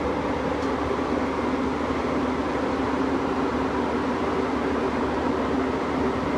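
Steady rumbling hum inside a Ukrainian-built KVSZ passenger train car while it runs, a constant low drone with faint rattling and no talking.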